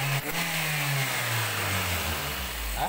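A Daihatsu Gran Max van engine is revved during home servicing: a steady close mid-pitched engine drone that holds loud and slowly drops in pitch, with no voices over it.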